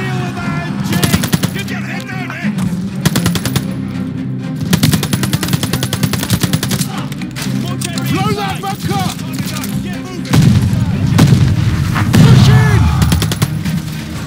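Machine gun fire in the Call of Duty Vanguard video game, a 1940s World War II battle, with dense rapid bursts and distant shots running throughout, under shouted soldier voices and battle noise.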